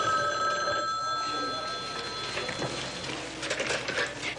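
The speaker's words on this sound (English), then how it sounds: "Oh, phone call, Jill." A telephone bell rings in a busy hospital cardiology office, its steady tone carrying under background voices and room chatter.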